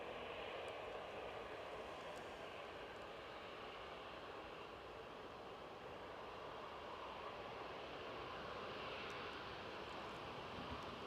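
KLM airliner flying past near Newcastle International airport, a faint, distant, steady broadband roar of jet engines that holds evenly throughout without talk.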